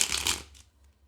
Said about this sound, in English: See if I can riffle and bridge this.